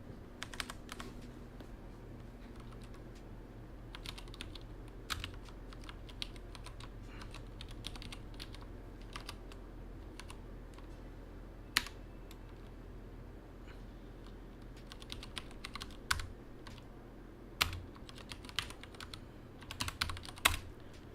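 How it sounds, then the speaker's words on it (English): Keys clatter on a computer keyboard during a stream about planning Raspberry Pi camera systems, with quiet irregular bursts of typing and a few sharper, louder keystrokes standing out against a low background hum. "Sorry if I'm very bad at typing."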